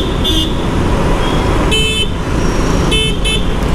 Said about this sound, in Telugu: హార్న్ కూడా బానే ఉంది ఫ్రెండ్స్